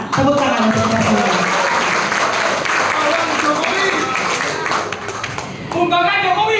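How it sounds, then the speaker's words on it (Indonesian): Crowd at a political rally of activists and politicians claps loudly and continuously, a full roar of applause with cheering voices underneath, easing briefly near the end before swelling again. "Tepuk tangan untuk kita semua."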